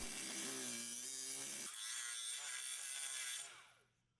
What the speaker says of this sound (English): Using a cutoff wheel, cut the outer shell encasing the bearing.